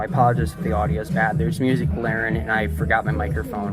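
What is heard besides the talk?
No everyday noise stands out behind the speech.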